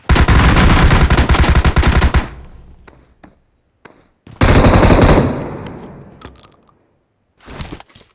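Loud automatic gunfire from a PUBG Mobile duo squad match, a long rapid burst that stops, then a second sustained burst, with a short final volley at the end and scattered single clicks between.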